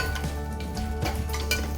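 Hot oil sizzles steadily in a pan as cinnamon, cloves and cashews fry, with light stirring scrapes and small clicks.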